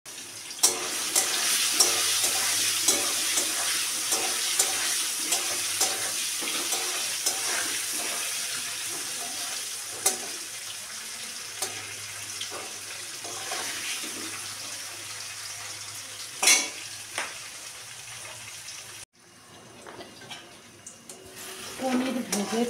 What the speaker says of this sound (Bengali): আমি একটুখানি হলুদ আর লবণ দিয়ে পনিরগুলোকে বেশ সুন্দর করে ভেজে নেব।